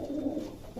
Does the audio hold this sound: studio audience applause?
no